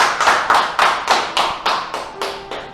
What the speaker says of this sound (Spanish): déle un fuerte aplauso al Señor